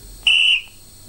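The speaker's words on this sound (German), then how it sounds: "Erstmal der Pfiff bei der Bravalok" A single short, shrill whistle from a Roco V 100 model diesel locomotive, one clean piercing tone lasting about a third of a second, heard close and alone against a quiet background.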